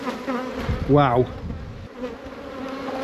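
Honey bees buzzing on a beehive frame at a Yorkshire farm, a close, continuous insect drone that runs all through, with a single short exclamation from a person over it.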